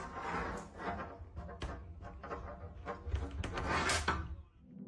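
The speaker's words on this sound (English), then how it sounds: "Someone was trying to pry open her hotel door with a tool" A tool pries at a hotel room door, making close scraping, rattling and knocking noises in an uneven series of bumps and creaks that last several seconds, with no talking.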